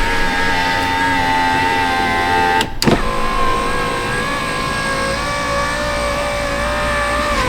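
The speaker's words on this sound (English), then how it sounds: "It's natural for the motor to struggle on the way up" A junkyard machine's motor runs in a steady strained whine with a strong tonal hum, briefly interrupted by a short clunk before it drones on evenly, loud and close.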